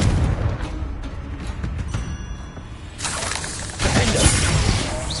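A Confringo blast spell in a Harry Potter–style duel game goes off as dense, roaring explosive bursts, loud and sustained, swelling twice into heavier blasts near the end.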